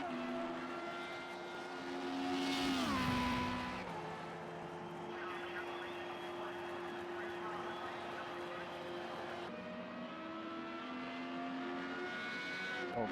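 Formula Renault race cars at the Red Bull Ring peel off into the pit lane, steady engine drones with pitch drops as they slow, one car sweeping close and loud, a race commentator talking over the engines.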